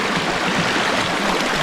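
A flowing stream rushes steadily and close by, a continuous broadband wash of water with no voices.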